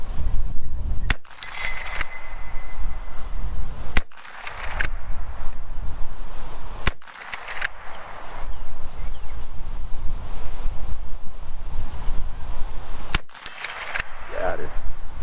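A Marlin 1894 CSBL lever-action rifle chambered in .357 Magnum fires four loud, sharp shots several seconds apart at an outdoor range, over steady gusting wind noise on the microphone.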